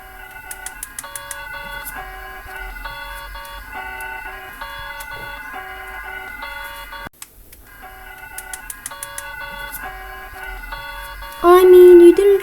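Antigua and Barbuda's Emergency Alert System alarm tone, a repeating pattern of steady electronic beeps and held tones that breaks off briefly midway, then resumes and ends in a louder burst.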